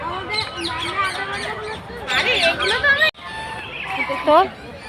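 Several ducks quack loudly and repeatedly at close range, overlapping calls in bursts with short pauses between them.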